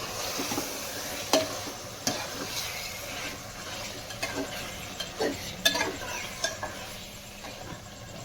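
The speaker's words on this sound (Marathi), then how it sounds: "आता आपण झाकण काढून त्याला थोडंसं परतणार।" Chicken rassa stirred and sautéed in a pan after the lid comes off: a soft steady sizzle runs throughout, with scattered scraping clinks of the spoon against the pan and no talk.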